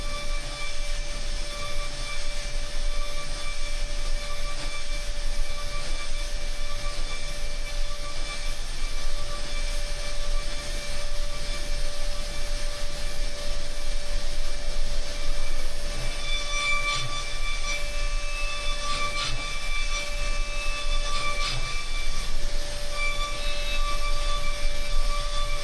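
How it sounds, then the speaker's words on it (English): A CNC machine mills a part with a 6mm OSG ball end mill on a pre-finish pass, a steady close whine and hum with constant tonal lines and occasional higher squeals toward the end. "This is just doing the pre-finish around the part and getting it ready for that final finish."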